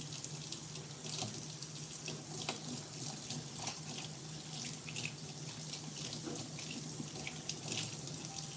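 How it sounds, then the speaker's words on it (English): Tap water runs steadily into a sink while hands are washed, a continuous moderate splashing stream with small irregular splatters throughout, no voices. "I'm gonna go ahead and wash my hands"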